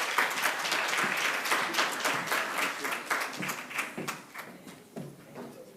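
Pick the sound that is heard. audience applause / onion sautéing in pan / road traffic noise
audience applause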